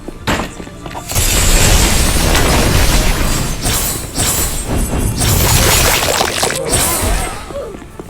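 Exploding zombies in the Roblox game Hunty Zombies set off dense, continuous booming blasts and crashing bursts, loud and layered for several seconds with brief dips between waves.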